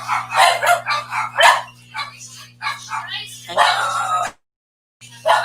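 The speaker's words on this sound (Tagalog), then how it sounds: "Ang ingay ng mga dogi namin." Dogs bark repeatedly in short, loud bursts in a home setting, close by and partly overlapping a person talking, with a steady electrical hum underneath and a brief silent gap near the end.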